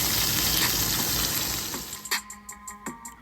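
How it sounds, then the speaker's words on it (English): A roast sears in a hot skillet with a loud, hissing sizzle that fades over a couple of seconds, then gives way to a few sharp clinks and taps of utensils, close by with no talk. "I'm going to go ahead and flip it over and sear the other side."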